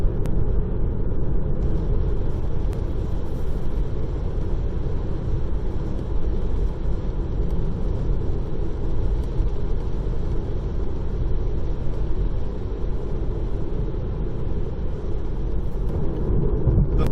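Steady road rumble and engine drone from a car cruising along the wooded Baltimore-Washington Parkway, a continuous, even interior hum with no talk.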